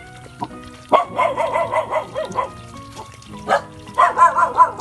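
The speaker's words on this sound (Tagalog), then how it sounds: "Ito yung aso ni Kwan, Aisa." A dog barks repeatedly close by in a rural yard, loud irregular bursts of barking with short pauses, alongside some background voices.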